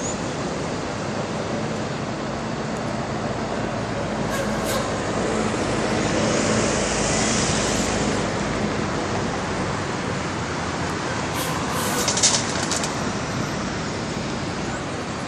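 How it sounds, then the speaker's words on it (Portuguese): City buses moving through the Barra Funda Sul urban bus terminal, a steady broad engine and road rumble with a few brief hisses, distant and continuous. "Filmando a movimentação dos ônibus urbanos aqui, ó, pra vocês"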